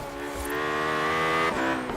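A McLaren P1 engine in Forza Horizon 3 revs high and holds a strong, buzzing tone, then shifts briefly, sounding synthetic and close.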